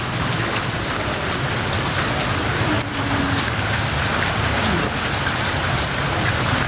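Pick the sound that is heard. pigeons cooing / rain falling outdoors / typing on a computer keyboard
rain falling outdoors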